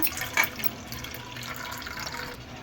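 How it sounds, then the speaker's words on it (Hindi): One cup of warm milk poured into a whisked yogurt and egg batter, a steady soft liquid stream with a brief splashy start and no speech. "अब हम डाल लेंगे 1 कप दूध गर्म किया हुआ"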